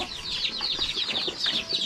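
Chickens cluck in a cold farmyard, a run of short repeated calls at moderate distance with light flutters and no talk over them.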